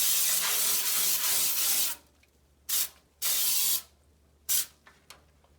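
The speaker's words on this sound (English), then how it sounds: "So I'm gonna take my Baker's Joy cooking spray" Baker's Joy non-stick cooking spray hisses into a baking pan in a long steady burst lasting about two seconds, followed by three shorter sharp spurts, with faint clicks between them.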